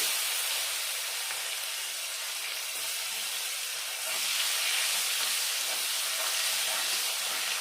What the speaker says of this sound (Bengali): ওই তেলে আমি ফোড়ন দিয়ে দেবো ফোড়নে দিয়ে দেবো গোটা জিরে টমেটো কুচি